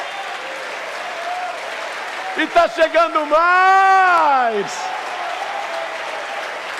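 Church congregation applauding during a Portuguese-language worship service, a steady wash of clapping throughout with someone speaking over it, his voice rising into a drawn-out sung phrase midway.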